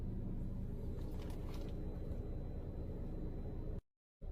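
A car engine idles at about 700 RPM in traffic, automatic gearbox held in D with the handbrake on, giving a steady low, even rumble that drops out briefly near the end.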